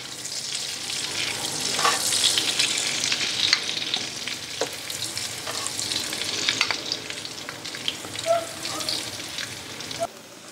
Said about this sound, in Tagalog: Akin lang itong gigisahin mga kajuit hanggang sa maluto yung sibuyas